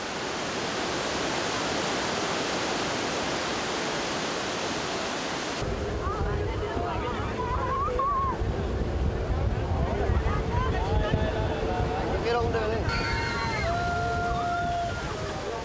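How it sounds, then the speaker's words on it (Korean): A loud, rushing roar of Iguazu Falls, heard from a boat, fills the air, then continues beneath voices and faint tonal sounds. "어느덧 눈앞으로 가까이 다가온 폭포."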